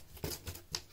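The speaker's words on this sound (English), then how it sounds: "you need some sharp scissors" Sharp scissors snipping through a cardboard box to make a record mailer, three distinct close crunching cuts spaced across a second, with no voices.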